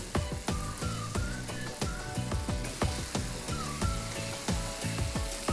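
Green onions and mushrooms are stirred into berkoukes pasta in a hot pan, making a loud continuous sizzle broken by a regular rhythm of scraping, clattering stirring strokes close by.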